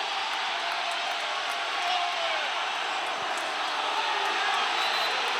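A Penn State home crowd roars continuously at a college wrestling match against Ohio State, a dense, loud wash of cheering that holds steady throughout with a commentator talking over it.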